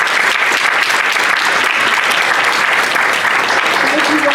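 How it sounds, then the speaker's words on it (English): Audience applause at a Chamber of Commerce candidates forum, a dense, steady round of clapping from a sizable crowd filling the room close and loud for the whole stretch. "let's give them a round of applause"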